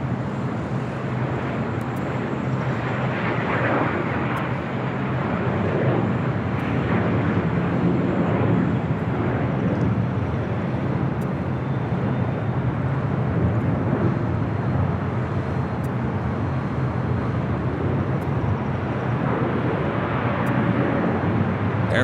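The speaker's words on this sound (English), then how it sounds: "Air France 777 at 300 ER, touching down at 25 left." An Air France Boeing 777-300ER touching down on runway 25 left at LAX: a continuous, heavy broadband jet roar that holds steady throughout, with no voices.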